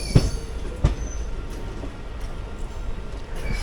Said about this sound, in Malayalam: നമ്മൾ ജസ്റ്റ് മെയിൻ ലൈനിലോട്ട് കയറുന്നു.